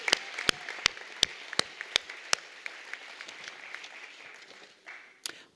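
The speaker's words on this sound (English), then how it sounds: "Round of applause for Tania, please." Sparse clapping at a school graduation and award ceremony, a handful of sharp, distinct claps ringing out one after another over a faint spread of softer applause, thinning toward the end with one last clap.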